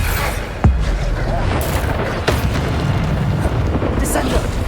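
Booming spell blasts from the Bombarda curse in Hogwarts Legacy, a loud continuous rumble with sharp bursts near the start and middle, under repeated shouted spell incantations.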